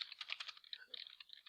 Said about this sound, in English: Sorry for bad typing.